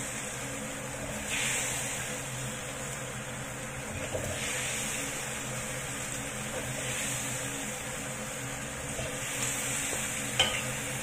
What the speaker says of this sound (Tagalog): Ngayon ilalagay ko na ang pork feet sa ating soy sauce.